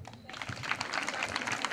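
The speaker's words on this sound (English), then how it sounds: "Clap for them." Students at a girls' high school in Kitale clap in a lively, uneven burst that builds after a brief quieter start, close and moderately loud, with some chatter mixed in.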